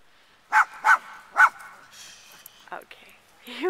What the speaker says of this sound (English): he was barking at these scarecrows